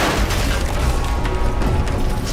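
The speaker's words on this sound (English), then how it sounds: "These massive explosions have brought new gameplay with them." A loud, continuous roar of heavy booms and rumbling blasts from Call of Duty: Black Ops Cold War fills the whole stretch, dense and close with no pauses.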